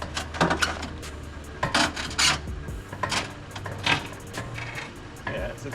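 Skid plates on a Demon-swapped Jeep Gladiator grind and scrape over rocks off-road in a run of irregular metallic scrapes and knocks, loud and close, with faint voices now and then.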